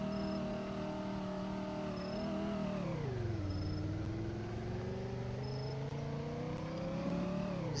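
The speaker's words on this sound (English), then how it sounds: "Let's do one more quick rev before we start, so that we could get a slight takeoff." A 1957 Chevlon Joile-Mode car engine revs steadily and close by, dipping in pitch midway and then climbing again, with a constant rumble and no talking.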